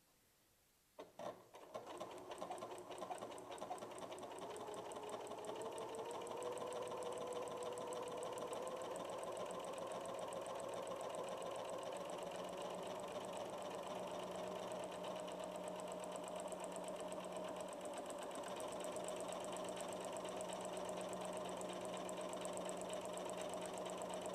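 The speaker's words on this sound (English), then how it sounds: "the machine's finished sewing the buttonhole" A Janome sewing machine stitches an automatic buttonhole with the R foot. After a brief start it settles into a fast, even whirring and clatter that runs steadily for over twenty seconds, close and clear, with no talking.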